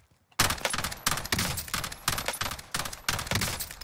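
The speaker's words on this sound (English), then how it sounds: "They're shooting me." Rapid bursts of automatic gunfire in Call of Duty Warzone, Cold War season 2, several loud close strings of shots in quick succession after a short quiet start.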